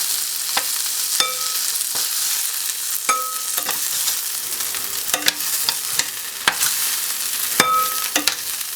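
Chicken pieces frying in a pan over medium heat give a loud, steady sizzle broken by sharp clinks and scrapes as pieces are turned and lifted, close up with no talking.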